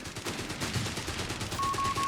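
Vickers machine gun firing during a Company of Heroes 3 World War II strategy battle, a steady rattle of rapid shots layered with distant battlefield noise over about two seconds.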